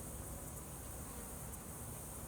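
A swarm of honeybees around a queen cage and hive box makes a dense, continuous buzzing hum that stays loud and steady throughout, with no voices.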